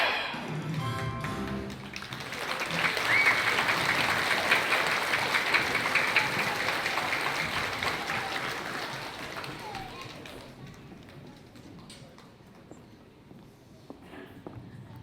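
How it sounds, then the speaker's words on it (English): Applause rises for an elementary school chorus at a Veterans Day program, a dense crowd clapping that swells, holds for several seconds, then thins out to scattered claps, with a brief voice at the start. "Let's give this chorus one more round of applause"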